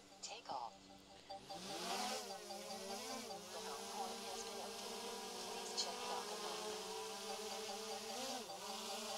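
A DJI Mini 3 Pro drone lifts off over a mown field, its propellers giving a steady, close, high-pitched buzz. The buzz swells after a brief start and holds evenly throughout.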